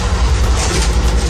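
Passenger train running on the California Zephyr line, with a steady, loud low rumble and faint rail clatter throughout, no voices.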